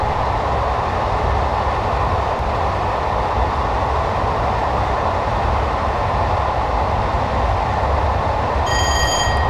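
A Class 421 electric train coasting with power off through Balcombe Tunnel on the Brighton to London Victoria line in Train Simulator 2015: a loud, continuous rolling rumble of wheels on rails with a faint high tone near the end.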